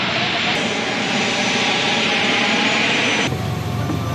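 The French presidential airplane comes in to land at Bern airport, its engines making a loud, steady roar close by. Partway through, the tone of the engine noise shifts abruptly. No voices can be heard.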